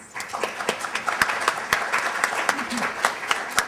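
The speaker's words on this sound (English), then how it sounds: "another round of applause for our panel" An audience applauds a three-woman panel at a marketing talk: a sustained round of clapping with several sharp, distinct nearby claps standing out above the steady patter.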